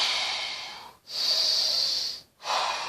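Long, forceful exhales of breath through the mouth during a gentle mobility exercise for older adults, three airy rushes in a row, the middle one with a whistling edge, close and clear without talk.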